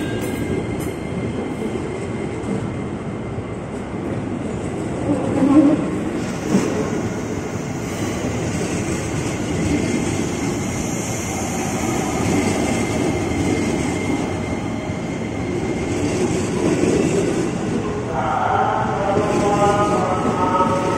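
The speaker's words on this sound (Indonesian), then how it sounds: "sekarang kita bakal lihat KRL yang menuju ke arah Manggarai dan melewati jalur lintasan Jatinegara" An electric commuter train (KRL) rumbles past on the line through Jatinegara station, Jakarta, at steady volume, a continuous rolling roar with faint wheel squeal and clatter, heard from close by for the whole stretch.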